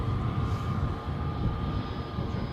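Qatar Airways airliner arriving at a gusty Edinburgh airport, a steady broadband engine roar with a faint whine held at constant loudness throughout, moderately distant and without talk.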